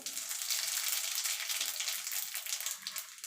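Dried red chillies and tempering spices such as radhuni or kalo jeere frying in hot oil for a masoor dal, with a steady close sizzle and crackle that holds for the whole stretch without a break.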